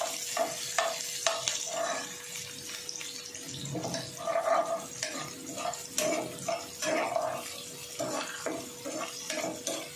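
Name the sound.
chili and onion frying in a pan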